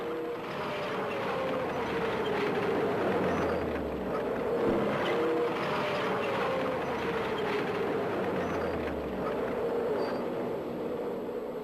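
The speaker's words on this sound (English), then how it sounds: "The tank can then move forward again." Swedish Strv 103 S tank moving forward, a continuous heavy mechanical drone and engine rumble with steady, close, loud running noise and no talk.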